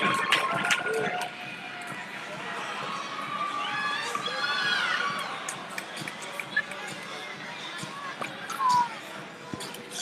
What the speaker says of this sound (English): The Hawks crowd is going wild, and they are still in it.